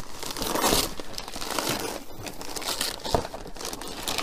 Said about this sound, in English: I'm trying to look away while I unwrap it like I do at Christmas time